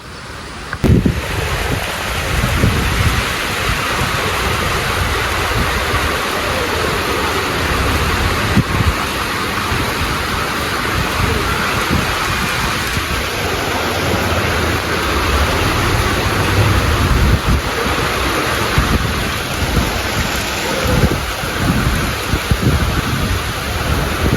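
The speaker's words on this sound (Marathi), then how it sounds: "वाट लावली अख्खी पावसाने बघा" Heavy rain pours over a village in a loud, unbroken, even roar that lasts throughout, with no voices.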